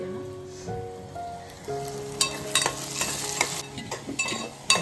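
A spice tempering crackles and sizzles for pithla, starting quietly under a few sustained tonal hums, then rising into a burst of sharp pops and spatters near the end, no speech.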